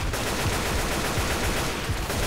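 Gunfire in the video game Deathcraft 2, a dense, continuous stream of rapid shots filling the whole moment, loud and close with no pause; no talk.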